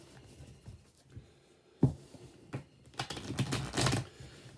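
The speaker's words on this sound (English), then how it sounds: "So we'll give the cards a little shuffle." A deck of playing cards being shuffled for a card trick, a close, soft flurry of riffling clicks that swells into a denser, louder burst toward the end, with no talking.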